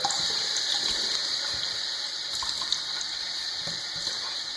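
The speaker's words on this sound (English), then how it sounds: "Got to wet my face, get started." Tap water runs steadily from a faucet as a man wets his face before shaving after a shower, a continuous close hiss and splash with no talking.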